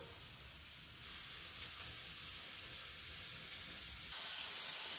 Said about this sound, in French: je vais remuer plusieurs fois la viande pour que justement elle puisse se colorer de tous les côtés